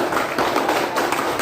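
A classroom group applauds a presenting group, with dense, loud clapping from many hands in one brief continuous burst.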